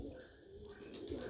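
Pigeons cooing in a loft kept by a pigeon fancier in Bihar, India, a steady soft low cooing murmur from several birds close by, with no talk over it.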